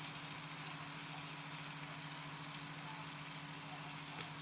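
Ginger garlic paste sizzles steadily in a hot frying pan while cooking a peas kurma, a continuous fairly quiet crackling hiss with a low steady hum underneath and no voices.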